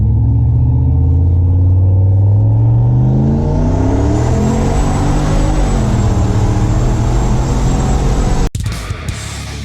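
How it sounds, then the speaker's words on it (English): Turbocharged LS-powered Chevrolet C10 truck on 12 PSI accelerating hard in first gear, a loud rising engine roar with a turbo whine building partway through, ending in a sharp bang. "We're going to do a first gear roll on."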